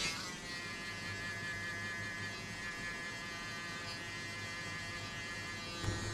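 Electric clippers buzz steadily through a skin fade haircut, a close, continuous motor drone with a faint shift in tone near the end.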